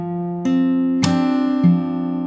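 A fingerstyle acoustic guitar phrase from a song, a few plucked notes over an open second string, one with a sharper slapped attack, sustained and close with no voices.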